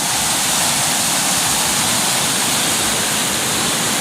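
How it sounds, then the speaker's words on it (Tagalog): Strong floodwater of a swollen river rushing past during a flood, a loud, continuous broadband roar with no break and no voices. "Kasi humina na yung tubig pero lakas-lakas pa din."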